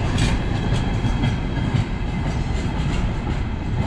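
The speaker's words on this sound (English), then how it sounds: "this is the Ulaanbaatar main railway station" Trains at Ulaanbaatar's main railway station in Mongolia give a continuous low rumble with rhythmic clickety-clack of wheels over rail joints, a steady, fairly loud wash of rail noise with no voices.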